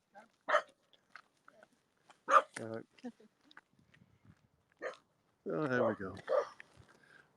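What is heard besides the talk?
dog barking during an evening walk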